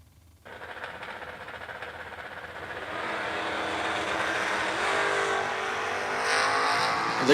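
Drag racing launch of a Chevrolet Nova against an AMC Gremlin: a loud, sustained engine roar kicks in abruptly and builds steadily in intensity as the cars pull away, with no talk over it.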